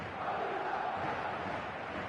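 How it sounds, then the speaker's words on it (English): A full eFootball stadium crowd cheers in a steady, distant roar, a broad wash of voices holding at an even level without distinct peaks. "The stadium is full of noise and energy."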